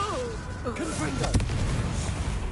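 A Confringo blasting curse goes off in Hogwarts Legacy as a sudden sharp, booming blast partway through, loud and close, amid ongoing game sounds, with a voice speaking at the start.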